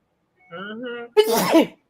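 A single loud sneeze, a brief voiced intake followed by a sharp, breathy burst, close by.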